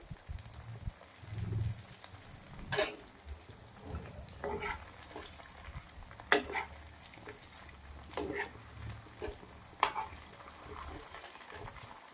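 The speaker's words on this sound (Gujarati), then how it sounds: "ક્રિસ્પી થાય ત્યાર સુધી તળી લેશું" Flour-coated paneer deep-fries in hot oil until crispy, with a soft, faint bubbling and sizzle broken by occasional sharp clinks and pops.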